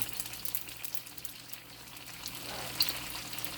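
Egg rolls filled with turkey, glass noodles and napa cabbage fry in a pan of hot oil, giving a steady, close bubbling sizzle that carries on throughout with a slight swell near the end.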